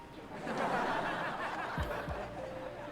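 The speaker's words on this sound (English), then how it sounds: "Okay, here's laughter." Canned laughter sound effect played from a Comica ADCaster C1-K1 button, a short burst of mixed chuckles and snickers from a crowd, moderately loud and steady for a few seconds.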